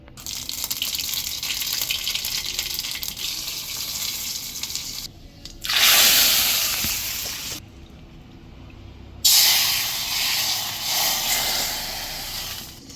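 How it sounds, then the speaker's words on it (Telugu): Cumin, mustard seeds and curry leaves hit hot oil for a tempering, giving a loud, steady sizzle. Two sharper surges of crackling hiss break out about halfway through and again near the end, with no voices. "ఆయిల్ పోసుకొని జీలకర్ర, ఆవాలు, ఇంకా కరివేపాకు వేసుకోవాలి."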